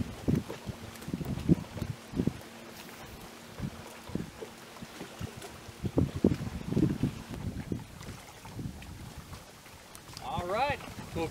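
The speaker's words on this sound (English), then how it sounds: "It's dang windy out here." Wind buffets a small fishing boat out on open water, a steady low rumble of gusts across the microphone with intermittent knocks and splashes, while someone talks now and then over it.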